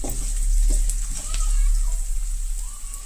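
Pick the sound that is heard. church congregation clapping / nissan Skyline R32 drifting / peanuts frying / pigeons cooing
peanuts frying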